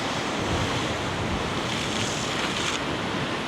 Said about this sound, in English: So we just gotta look at the waves coming in.